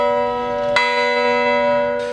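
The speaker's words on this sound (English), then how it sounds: "church bells rang out again in another part of the city" A loud church bell in Mosul rings out with a long, sustained resonant tone, struck again partway through and hanging in the air.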